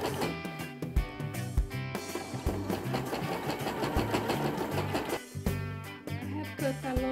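A sewing machine top stitches a pressed fabric flap during a shirt-to-dress upcycle, its steady motor hum and needle chatter running continuously, with brief pauses, under layered background music.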